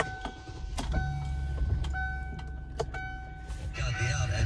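A 2009 Kia Borrego EX V8 cranks and fires up close by, its engine settling into a steady low rumble with a few clicks and clunks from inside the cabin, while a person talks over it.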